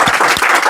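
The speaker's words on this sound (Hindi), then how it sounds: "आप सभी लोग तालियों के साथ स्वागत करेंगे" Applause from an audience welcoming a student at a prize ceremony for agricultural entrance exam achievers, a brief burst of steady clapping filling the room.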